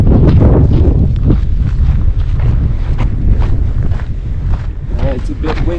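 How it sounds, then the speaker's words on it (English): Loud gusty wind buffets the microphone on the slopes of Cotopaxi volcano in Ecuador, with rumbling roars rising and falling throughout. "It's a bit windy right now."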